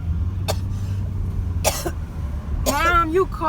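A woman coughs in a car, with several harsh, loud bursts spaced a second or so apart, and a strained, choking voice follows over a low engine rumble.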